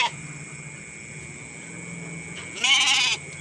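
A goat and a flock of lambs, with one loud bleat bursting out near the end over a steady low mechanical hum.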